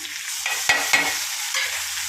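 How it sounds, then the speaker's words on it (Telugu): Chopped tomatoes and onion stirred in a pan while frying for a Telugu cucumber-tomato curry, a steady close sizzle broken by a couple of sharp spoon scrapes and knocks against the pan. "టమాటా వేసుకొని ఒకసారి ఇలా కలుపుకొని సిమ్లోనే ఉంచుకొని మూత పెట్టుకొని మగ్గనిద్దాం"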